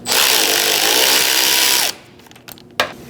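A power tool whirs loudly and steadily as it loosens a front strut bolt on a 2016–2019 Chevrolet Cruze, then stops, leaving a few close metallic clinks and knocks.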